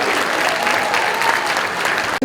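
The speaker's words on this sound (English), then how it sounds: "One more round of applause for the Nichols Lawson 7th and 8th grade band." An audience at a school winter band concert applauds the 7th and 8th grade band: a dense, steady wash of clapping that fills the hall throughout, then cuts off sharply at the very end.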